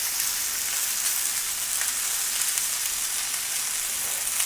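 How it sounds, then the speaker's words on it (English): Chicken simmers in a pan with Worcestershire sauce, giving a steady close hiss and crackle of sizzling liquid with no talking. "when we add this Worcestershire sauce to it, what it is gonna do is just go ahead and simmer in there and cook away"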